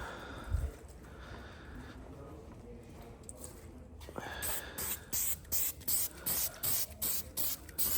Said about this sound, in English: Here's the new filter. I'm gonna put a light coat of oil on it.